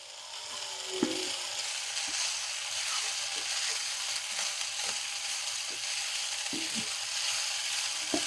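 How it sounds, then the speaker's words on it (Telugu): Fresh green peas fry in oil beside ivy gourd with a continuous close sizzle, broken by sharp crackles and pops every second or so, and no talking. "బఠానీలు మనం ఆయిల్లో వేంపినప్పుడు చిట్లుతూ ఉంటాయి"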